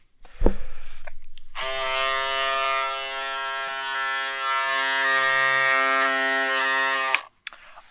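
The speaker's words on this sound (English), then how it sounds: "I don't usually use electric razors" Electric razor with a pop-up sideburn trimmer attachment running close up, a steady loud buzzing hum that switches on after a click, holds for several seconds, then stops abruptly.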